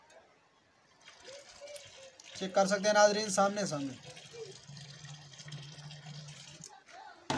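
Water from a mug pours into an old gourd bottle used in a traditional way, first as a loud, splashing gush for about two seconds, then as a quieter, steady gurgling fill while someone talks.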